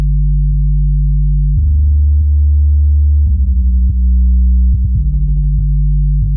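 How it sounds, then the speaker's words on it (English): Deep synth bass notes hold and shift in pitch, with clean sustained low tones and a few sharp plucky attacks, loud and steady throughout. "this is just a classic synth bass right here"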